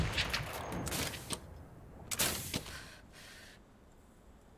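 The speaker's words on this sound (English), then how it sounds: "firing off random pop shots" Bursts of gunfire in an online shooter game crackle in scattered volleys, a few sharper pops standing out before the firing thins into quieter background noise.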